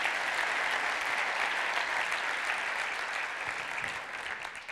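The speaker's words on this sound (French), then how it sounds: "Un grand applaudissement." Warm, continuous audience applause at a Devoxx France 2022 keynote, a dense even wash of clapping that begins to fade slightly toward the end.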